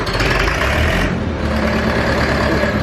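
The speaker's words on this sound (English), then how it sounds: "You just can't beat that old school rumble from the exhaust." An old farm tractor with a mechanical throttle rumbles steadily up close, a loud, continuous low engine drone with a slight dip in pitch midway, no voices over it.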